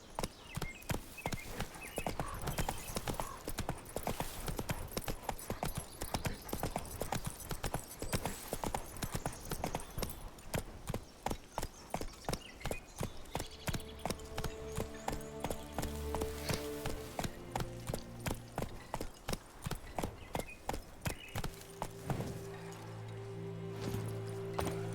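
Horse hooves clip-clop steadily in a rhythmic walk-to-trot cadence while riding through The Witcher 3, close and prominent, with occasional tonal game music and ambient layers underneath.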